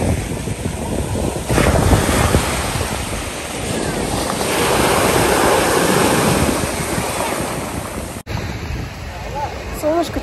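Sea waves breaking on the beach at Lazarevskoye, a continuous loud surf wash with swelling crashes and heavy wind buffeting the microphone, close by and without talk.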